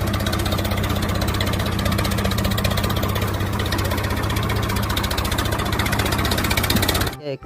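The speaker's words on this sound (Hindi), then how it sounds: "एक ट्रैक्टर है, चलो इसमें चला के देखते हैं" A toy tractor's small motor runs with a steady, dense buzzing whir at close range, holding an even level throughout before cutting off abruptly near the end.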